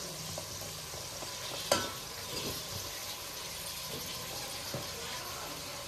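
Vegetables with radish and okra get stirred in a pan for South Indian sambar: soft scraping and faint sizzling with one sharp clink of a spoon against the pan, quiet and close.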